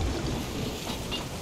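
Heavy rain and thunder from a storm at sea in the pirate game Sea of Thieves roar as a dense, continuous wash of noise with a deep low rumble underneath, loud and without pause.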